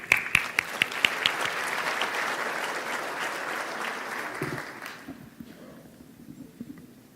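Audience applause welcoming a speaker at a talk, steady clapping that fades out after about five seconds, leaving faint room noise and a few scattered claps.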